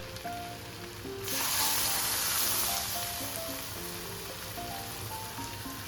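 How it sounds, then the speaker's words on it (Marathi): Hot tempering of mustard seeds, cumin, asafoetida and turmeric poured onto jackfruit curry erupts in a loud, hissing sizzle that swells suddenly and then settles into a steady crackle, with background music playing throughout. "आता ही चुरचुरीत फोडणी भाजीवर ओतायची आहे"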